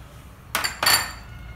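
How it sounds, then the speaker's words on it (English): Kosambari salad ingredients with green chilli and grated coconut being mixed together in a bowl: two short clattering, clinking scrapes of a utensil against the dish, close and fairly faint over quiet room noise. "Mix it all very well together."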